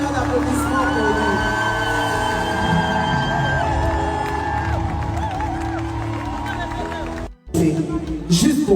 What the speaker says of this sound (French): faites des tonnerres d'applaudissements pour lui